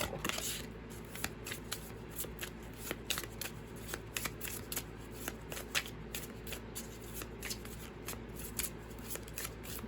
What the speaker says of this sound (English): let's draw a few cards from a different deck